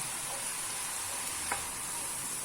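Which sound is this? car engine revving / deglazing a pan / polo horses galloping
deglazing a pan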